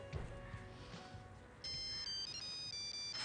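A phone ringtone plays indoors, a short electronic melody with a clear repeating tonal pattern that grows louder and steadier partway through, faint and alone.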